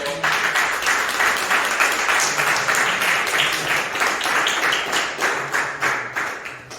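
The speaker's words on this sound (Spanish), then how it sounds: "Denle un aplauso al Señor." A church congregation applauds the Lord with lively crowd clapping that pulses in a loose, regular rhythm, staying fairly loud throughout with a few voices mixed in.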